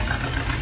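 A Ford baquet car engine running with a steady low rumble, close and fairly loud, in a brief stretch with no talk.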